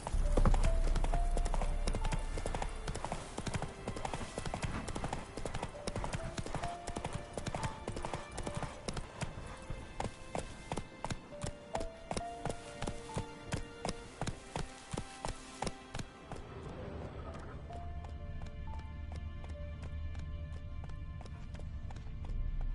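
Roach, a horse in The Witcher 3, gallops with rapid, rhythmic hoof clip-clops that stay prominent and close for most of the stretch, then shift to a lighter pattern near the end.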